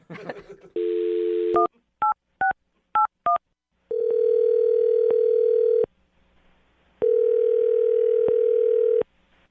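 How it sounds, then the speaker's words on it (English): A telephone line gives a steady dial tone, then a quick run of push-button keypad tones as a number is dialed, followed by long ringback tones separated by a gap of silence. "I'm going to dial the phone number right now"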